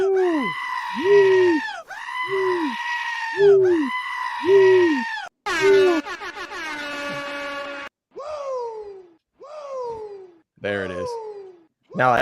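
Goats bleat over and over as a played sound effect, a string of loud, wavering cries that come in quick succession, some long and some clipped short.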